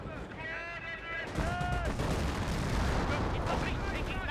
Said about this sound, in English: Artillery barrage running on in.